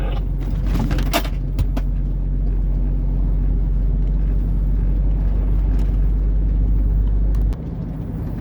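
A car drives along the bumpy A1 motorway between Pyrzowice and Piekary Śląskie, with a steady, loud low rumble from inside the cabin. A few sharp thumps from the rough surface stand out near the start.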